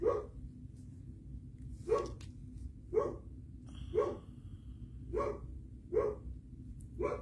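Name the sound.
dog barking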